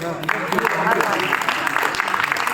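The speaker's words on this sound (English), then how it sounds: "Put round of applause for." An audience claps at a club's annual general meeting, a steady patter of hands running beneath a speaker's voice, with talk continuing over the applause throughout.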